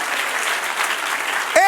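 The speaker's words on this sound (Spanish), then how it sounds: "Dale un aplauso al Señor." Congregation applause during a church sermon, brief dense clapping that ends as a voice breaks in.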